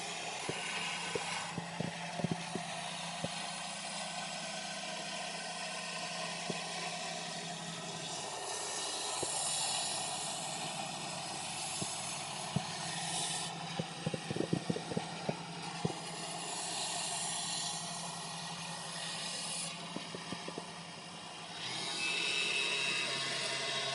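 Sandpaper against a small wooden mini baseball bat spinning on a lathe makes a steady, fairly quiet hiss with scattered sharp clicks and taps throughout, no talking.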